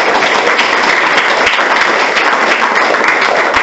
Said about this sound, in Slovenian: Koliko ste zdaj ploskali